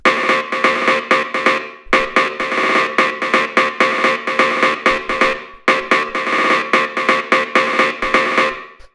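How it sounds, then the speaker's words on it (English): A bright, punchy rave stab synth chord sample repeats in a fast, steady rhythmic pattern for raw rave techno, loud and alone, with brief pauses between phrases. "After that, we have the stab, which sounds like this."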